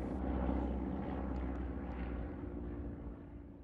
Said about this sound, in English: With a fighter plane flying rings round us